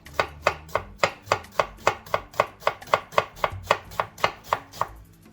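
A knife chops an onion on a board in a Kerala home kitchen: about sixteen crisp, evenly spaced knocks in a steady quick rhythm, close and clear, with no voices.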